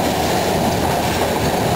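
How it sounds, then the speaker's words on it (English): Train wheels grind and rattle on narrow meter-gauge rails in a loud, continuous clatter, heard up close from aboard the moving train near Shimla. "The train wheel against the rail"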